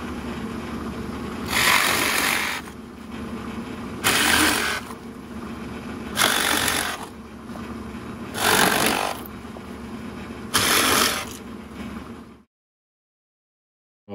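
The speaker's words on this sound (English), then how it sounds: "Now I'm going to go back with the inch and a half Forstner just to clean up this center section." An inch-and-a-half Forstner bit drills into a wooden decoy, coming in five loud, rasping bursts of a few seconds each over a steady machine drone, then cutting off to silence.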